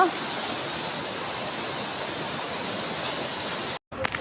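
Loud, continuous roar of the rushing Tamakoshi river, broadband and unbroken, cutting out briefly near the end before resuming.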